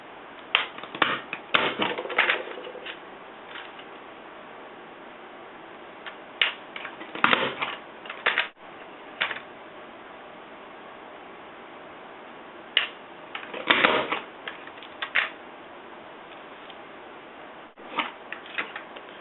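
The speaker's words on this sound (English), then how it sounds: "I want to use the scallop edge punch and go along this brown piece of paper here" A scallop edge punch works along a strip of brown cardstock, sharp clicking and crunching clusters of punches separated by quiet stretches, close and distinct with no speech.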